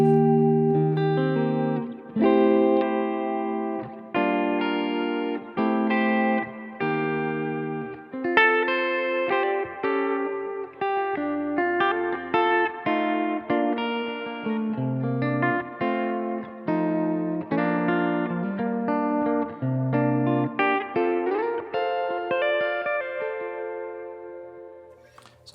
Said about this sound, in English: I have one spring of the new MX spring reverb on the left channel